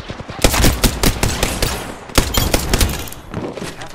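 Rapid video-game gunfire cracks loud and close, shot after shot in dense volleys, with a short lull before another string of bursts.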